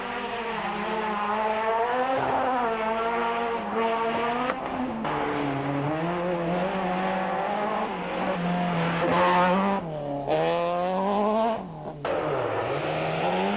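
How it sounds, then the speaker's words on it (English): At the 1993 Volkswagen International Rally, a Class C Toyota Conquest and a Class B 16-valve VW Golf race past. Loud, close engines roar continuously, with pitch rising and dropping through gear changes. "firstly Glenn Durman in the leading Class C Toyota Conquest and then Leon Buerta in his Class B 16-valve Golf blast past the crippled Sentra"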